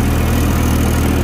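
Massey 103 tractor engine held at about 1500 RPM while pulling a 7 ft KSD rotavator at full depth, a loud, steady low diesel drone with continuous rumble and no pauses, heard alone.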